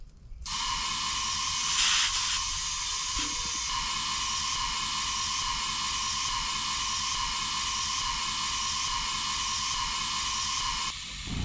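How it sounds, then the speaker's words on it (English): Compressed air hisses steadily as it is fed into the tires of an old Chevrolet C-10 pickup left rusting for 30 years, one loud, continuous close-up rush lasting about ten seconds. "Let's see if any of these tires are going to take air"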